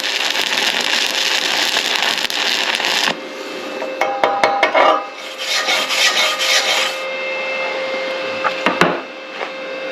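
Crackling, sizzling stick welding arc from a Sefaspe ARC 200 PRO welder running on 110 volts with a new rod, loud and close, stopping and restarting with sputtering pops.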